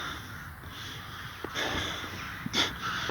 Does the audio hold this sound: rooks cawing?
yes